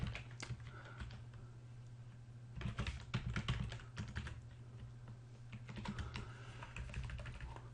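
Someone types on a computer keyboard in short bursts of quick clicking keystrokes against a low steady hum, quiet and close, with pauses between runs and no talk.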